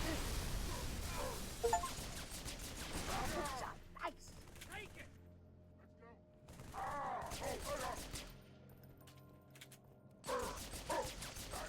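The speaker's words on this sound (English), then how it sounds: "God, you can shoot this pistol fast." Rapid pistol fire in Halo: The Master Chief Collection, quick bursts of sharp shots in two dense stretches separated by a quieter gap, with game noise and voices mixed in.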